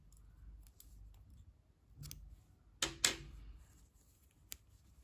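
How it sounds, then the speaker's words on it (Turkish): Scissors snipping yarn during a crochet project for a baby romper, a few sharp close clicks and snips spaced apart against a quiet background with faint handling noise. "İpliği burada kesiyorum."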